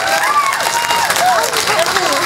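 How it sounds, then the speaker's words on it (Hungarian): Festival audience applauding for dancers at the Tiszabezdéd Tarsolylemez Festival, loud and dense clapping mixed with crowd noise and some cheering, with whistles or voices rising over the steady clatter of hands. "ha egy bátorító tapsot kaphatnánk még egyszer"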